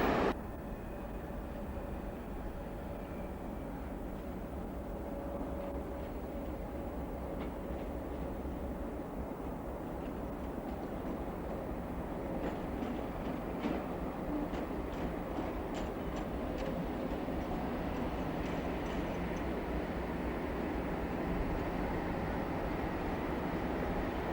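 A British Rail Class 50 diesel locomotive hauling the 0642 Weston-super-Mare to Cardiff passenger service, with a steady, fairly distant rumble and rail noise and faint clicks of wheels over joints building slightly toward the end.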